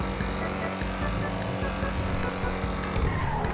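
Fast car in the video game GTA 5, a continuous loud engine roar with pitch shifts as it shifts gears and corners, alone without talk.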